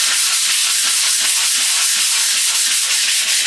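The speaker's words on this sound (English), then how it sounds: "we're going to take our sandpaper and our large one, this is the 220" An Anycubic M3 Premium build plate being sanded with 220-grit sandpaper makes a steady, close, dense scratchy hiss with quick repeated strokes and no voices.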